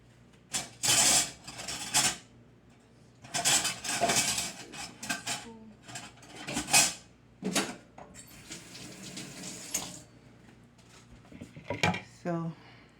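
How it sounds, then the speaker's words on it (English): A metal spoon clatters among cutlery and dishes in several loud bursts of jangling and clinking, with pauses between and a brief run of water near the end; a voice is heard faintly at moments. "let me get a spoon"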